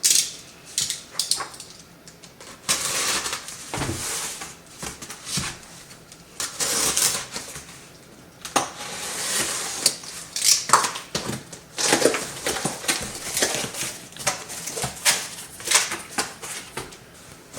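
Blade slicing into a heavy cardboard box holding the Destiny 2 The Final Shape Collector Edition, a run of close scraping and crunching cuts with short pauses between strokes.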